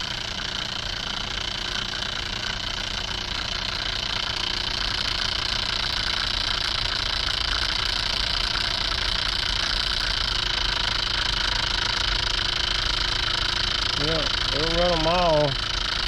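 An electric motor drives a sump pump stator coil converted into a 48-volt DC generator under load, giving a steady whirring hum throughout, with a brief wavering whine near the end.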